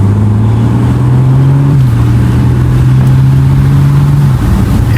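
A BMW X3 M40i drives steadily, its engine a continuous close drone with pitch steps as the transmission shifts, no talk over it.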